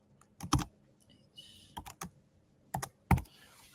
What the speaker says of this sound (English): I will type it here in